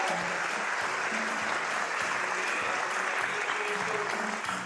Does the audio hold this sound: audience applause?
yes